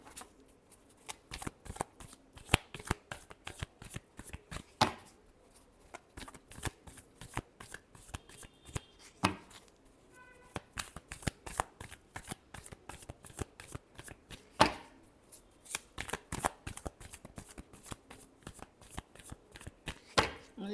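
Tarot cards being shuffled, a long run of quick crisp riffling flutters and soft slaps repeating steadily, close and fairly quiet with no voice.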